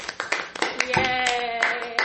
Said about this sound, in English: round of applause for Billy